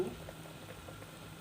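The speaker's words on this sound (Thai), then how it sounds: "ต้มน้ำซุปนะคะน้ำซุปเดือด กระดูกหมู" Pork bone broth for Vietnamese-style kuay jap comes to a boil in a pot, giving a faint, steady bubbling hiss that carries on evenly throughout.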